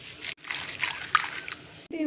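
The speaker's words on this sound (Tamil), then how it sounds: "இதில் தண்ணியில் போட்டு நல்லா கழுவி எடுத்துக்கோங்க" Spinach and carrots being washed in water, with sloshing and trickling splashes from a near source across about two seconds, broken by a short pause.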